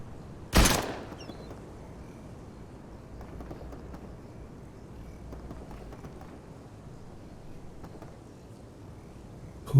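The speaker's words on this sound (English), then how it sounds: "The last 2 people are shooting." Gunfire in the Fortnite video game, a single loud shot near the start followed by faint, scattered distant shots under a low steady background.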